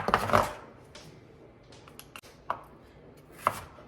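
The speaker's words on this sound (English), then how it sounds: "I'm gonna slice all the onions and the peppers" A knife slicing onions and peppers on a cutting board while preparing bacalhau Gomes de Sá, a loud first burst followed by a few sparse, close chopping knocks spaced about a second apart, no talking.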